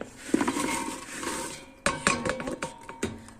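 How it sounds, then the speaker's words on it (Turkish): Metal clanks and knocks as a pressure cooker pot is lifted and set about, with a few sharp clinks and scrapes close by. "Şimdi tenceremi alacağım."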